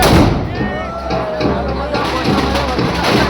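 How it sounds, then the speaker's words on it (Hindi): Guns fire at a gunpowder Holi festival in Rajasthan, a rapid string of booming shots ringing out over a noisy crowd with whistling and chatter mixed in. "तड़ातड़ चल रही बंदूकें,"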